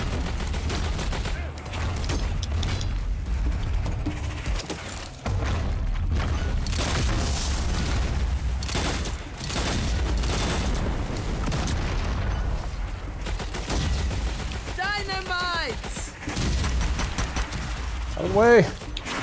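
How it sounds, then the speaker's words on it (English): Exploding crossbow bolts blast in the video game Strange Brigade as a rapid run of booming detonations over loud, rumbling combat noise. Voices break in near the end. "I've been shooting him with this exploding crossbow and it is working"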